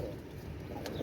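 A pair of Pakistani KTM teddy master pigeons coo softly, low murmuring coos against a dull background hum, close but quiet, with no talk.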